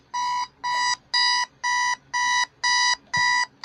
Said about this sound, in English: Now the same thing to shut off the alarm.